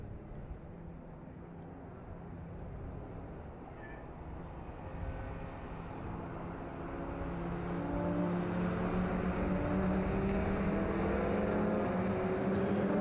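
Historic race cars, mostly BMWs along with Suzuki Swift, Renault and Mazdas, run at the Red Bull Ring; a steady distant engine drone rises and swells louder in the second half as the field approaches.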